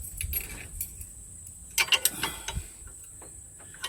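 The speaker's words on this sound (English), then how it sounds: "use the F tool to snug them down." An F tool snugging down Rubigrid fasteners on a 2002 Jeep Wrangler TJ, giving soft metallic clicks and jangling taps in short irregular bursts, close and fairly quiet, with no talk.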